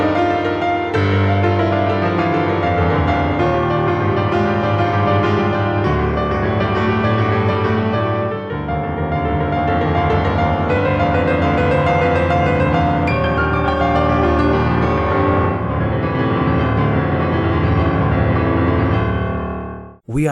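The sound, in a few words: piano etude fragment played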